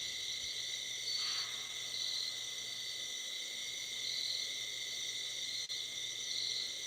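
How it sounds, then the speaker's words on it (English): A single faint bird call rises briefly near the start outdoors at night by the water, carried over a steady drone of crickets and insects. "Here's another bird."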